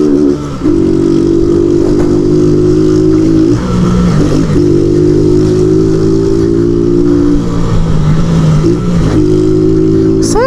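A delivery motorcycle revving hard in repeated bursts, its mid-pitched engine climbing and dropping through several loud rev cycles close to the microphone, with no talk over it.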